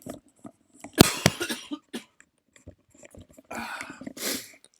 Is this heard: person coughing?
yes